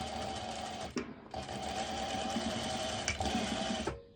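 A sewing machine stitching close to the edge over a strap on swimsuit fabric for pole dance wear, steady whirring runs broken by two brief pauses, close and clear.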